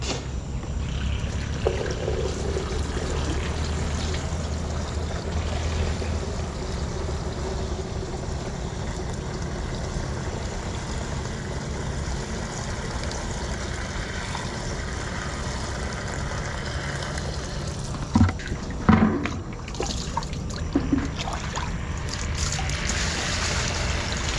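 Continuous gushing of water pouring into a knapsack sprayer, steady and close for a long stretch, with a few brief clunks near the end.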